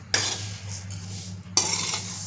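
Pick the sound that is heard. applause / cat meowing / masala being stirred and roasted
masala being stirred and roasted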